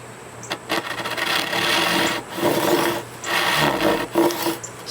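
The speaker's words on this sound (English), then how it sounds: "Let's see if we can do any better with this saw." A Japanese pull saw rips along timber in steady rasping strokes, several close cuts with brief gaps between them and no talking.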